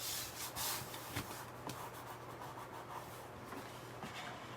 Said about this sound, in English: And then you're going to squeegee from both sides, the front and the back.